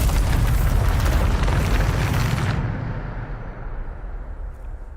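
A Bombarda explosion spell cast in Hogwarts Legacy: a loud, sustained blast roar for over two seconds, then a cut to a low rumbling tail that fades away, with no talking.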